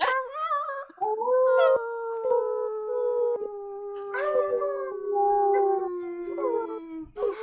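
A group of people imitates wolf howls together during a full moon ceremony, several long, sustained, wavering voiced howls overlapping and sliding downward, loud and near, with brief gaps between rounds.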